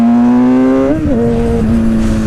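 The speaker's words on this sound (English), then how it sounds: "give it a little gas and dump it." Close, loud stunt motorcycle engine holding a steady high revving drone that dips and shifts pitch, then settles back to an even tone as the throttle is worked.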